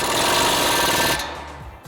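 On a Ford Bronco, an impact wrench with a 35 mm socket runs an axle nut in. It gives a loud, close, rattling burst for about a second, then cuts off into a fading tail.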